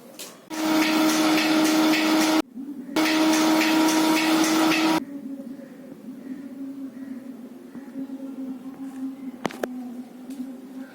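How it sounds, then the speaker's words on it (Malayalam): A paddy husking machine, a huller, runs loud inside a Kerala flour mill, with a steady droning hum that cuts out briefly and then returns. It stops after about five seconds, leaving a lower mechanical rumble with a sharp knock near the end. "നെല്ല് കുത്താനുള്ള മെഷീൻ, അള്ളർ എന്ന് പറയും."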